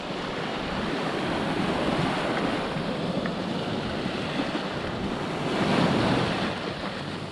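Sea waves wash onto the shore at Danes Dyke in a steady, full surge of surf that swells louder near the end, with wind buffeting the microphone.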